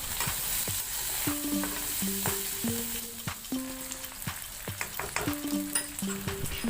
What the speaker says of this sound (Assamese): আৰু এয়া পিঁয়াজখিনি ভাজি লৈছোঁ আৰু ইয়াতে মই মছলা যি য'ত আছে অকণমান দি দিছোঁ